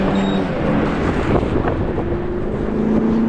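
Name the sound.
strong gusty wind, 48 mph gusts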